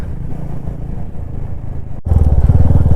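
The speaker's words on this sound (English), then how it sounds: "And man, that exhaust sound good." A Royal Enfield Classic 350 motorcycle idles with a low throbbing exhaust, then after a brief cut the engine burbles louder and deeper, close by.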